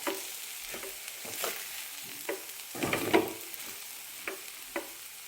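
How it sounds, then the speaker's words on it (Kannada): Semolina (rava) dry-fries in a pan over low heat for upma, with a soft continuous sizzle and repeated scraping strokes as a spoon stirs the grains, close and fairly quiet. "ಇದನ್ನು ಕಡಿಮೆ ಉರಿಯಲ್ಲಿ ಇದು ಒಂದು 4 ನಿಮಿಷ ಚೆನ್ನಾಗಿ ಫ್ರೈ ಆಗಬೇಕು ರವೆ."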